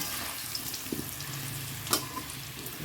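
Potatoes with salt and turmeric fry in a pan, a fairly quiet steady sizzle broken by a few soft utensil clinks and stirring scrapes.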